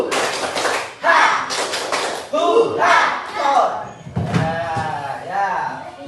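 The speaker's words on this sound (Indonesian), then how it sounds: "Tepuk semangat" A primary school class of fifth graders performs a rhythmic spirit clap, bursts of clapping alternating with loud chanted voices in a set pattern, close and lively in a classroom.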